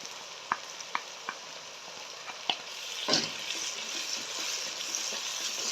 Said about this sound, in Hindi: लो टू मीडियम फ्लेम पे इसे भूनें अच्छे से।